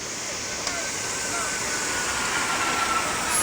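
Floodwater rushes past in a steady, broad roar, loud and close, with a faint tonal hum running underneath.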